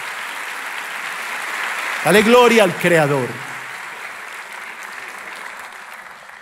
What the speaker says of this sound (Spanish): Dale un aplauso al Señor, iglesia.